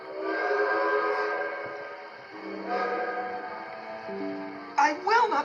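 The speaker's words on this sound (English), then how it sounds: "Wild whistles echoed and bounced off his boiler." Steam locomotive whistles sound in long, sustained, overlapping tones that swell and fade as if echoing through a valley, followed by a short burst of a voice at the end.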